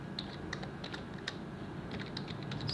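Typing on a computer keyboard, a quiet, steady run of light key clicks at an irregular pace, with a few slightly sharper taps, close but soft against faint room noise.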